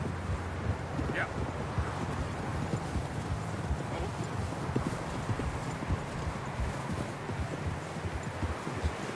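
Horse hooves clip-clopping steadily at a walk in Red Dead Redemption 2, close and continuous under wind noise and a low rumble, with a brief faint high call.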